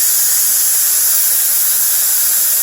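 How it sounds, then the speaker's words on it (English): Instant Pot pressure cooker quick-release venting steam while making mashed potatoes, a loud continuous close hiss with no break. "that's just going to let out your pressure. So it's just steam."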